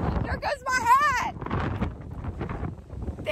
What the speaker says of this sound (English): it's pretty windy this morning